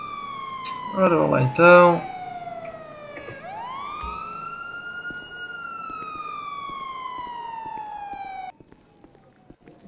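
An ambulance siren wails in GTA V on a Portuguese roleplay server with an INEM paramedic job, rising and falling in long sweeps after someone speaks briefly, then cutting off abruptly.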